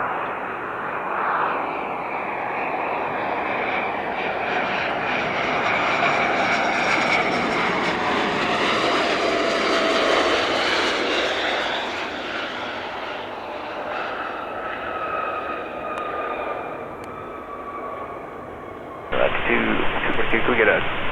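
A fixed-wing aircraft landing on runway 26 left at Spirit of St. Louis Airport, its broad engine roar swelling and fading over about twenty seconds, with a tower radio voice talking in the background.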